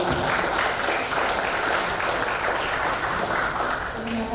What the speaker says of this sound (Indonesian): izin Ibu kita berikan aplaus buat teman-teman sekalian